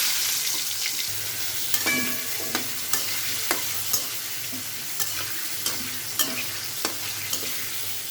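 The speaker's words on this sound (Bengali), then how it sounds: "এখন আমি আলুগুলো একটু লাল লাল করে ভেজে নেব।" Potato pieces fry in oil in a wok under a soft continuous sizzle, while a spatula stirs them with regular scraping knocks about every half second, close and clear.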